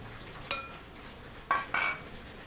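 Utensil clinks against a bowl while batter of semolina, lentils, yogurt, onions, chilies and spices is mixed, three short scraping knocks over a quiet background.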